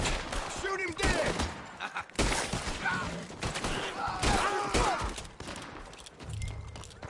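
Repeated gunfire and volleys of shots in the Red Dead Redemption 2 video game, the player's side firing as Arthur Morgan on a group of enemies, with shouted voices over the bursts.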